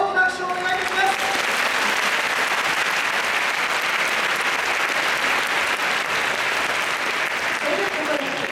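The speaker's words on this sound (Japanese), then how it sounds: "大きな拍手をお願いします。" A large crowd at a Kawasaki Frontale season launch event claps loudly and continuously, a dense wash of applause that swells early and holds steady; a voice is briefly heard at the start.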